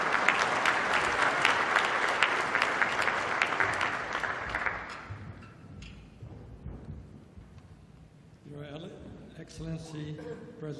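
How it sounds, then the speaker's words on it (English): Applause at a development finance forum welcomes a speaker, a burst of dense clapping that fades after about five seconds, followed by someone speaking into a microphone. "Please, let's give him a big round of applause."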